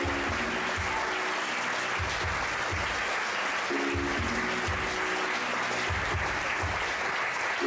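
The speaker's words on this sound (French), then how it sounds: "S'il vous plaît, on peut les applaudir." A large audience at an evening stage show applauds steadily and densely, a continuous wash of many hands clapping with a low rhythmic music beat underneath, no voices on top.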